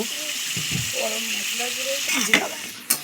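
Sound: stirring chilli soybean with sauces in frying pan

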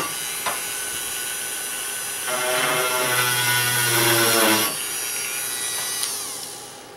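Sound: drilling a divot

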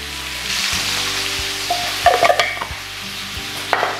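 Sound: pork browning in a pan with bay leaves

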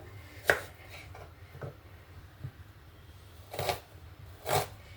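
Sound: onion being finely chopped with a knife

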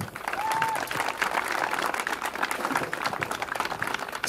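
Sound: audience applause for Niko

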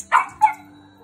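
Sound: dog barking

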